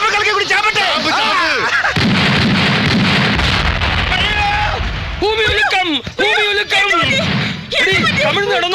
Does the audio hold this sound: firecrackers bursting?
yes